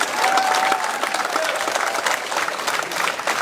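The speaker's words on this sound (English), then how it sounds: "Put your hands together." An audience at an interfaith forum in a performing arts venue bursts into sustained, dense applause, loud and steady throughout with no voice over it.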